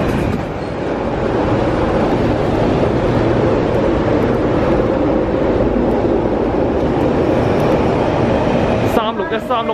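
An MTR Tuen Ma Line non-passenger train runs through Tai Shui Hang station with a loud, steady rumble and rattle of wheels on rails. Near the end, a chiming announcement tone rises over the fading rumble.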